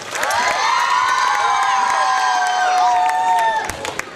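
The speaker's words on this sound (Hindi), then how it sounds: "तो इन बच्चों के लिए और एक बार तालियां हो जाए" An audience at a primary and high school annual celebration claps and cheers for award-winning children, loud shouts and whoops riding over continuous applause before it tapers off.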